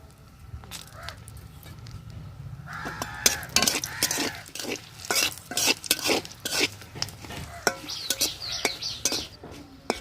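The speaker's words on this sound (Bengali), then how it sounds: "মাছ ভাজার তেলে শুকনা মরিচ ভেজে নেব।" Dry chilies fry in the oil left from frying hilsa fish, with a steady sizzle and repeated sharp scrapes and taps of a utensil against the pan. The sound is close, and no voice is heard.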